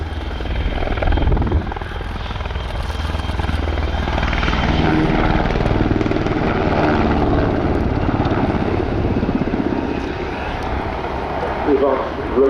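A helicopter with a four-bladed composite main rotor and three-bladed tail rotor at the RIAT airshow gives a loud, continuous rotor and turbine roar that holds steady throughout.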